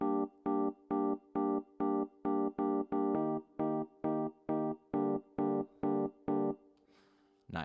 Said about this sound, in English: On the piano with the same rhythm, it sounds like this.